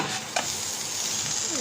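A stuffed paratha is flipped in a pan and keeps up a steady, close sizzle, with a brief soft thump as it turns over.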